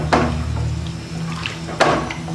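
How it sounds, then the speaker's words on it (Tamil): Water is poured into a Kerala-style onion theeyal curry in a home kitchen, giving two short splashing bursts over a low steady hum, close and fairly loud. "குழம்புக்கு தேவையான அளவுக்கு தண்ணி ஊற்றிக்கலாம்."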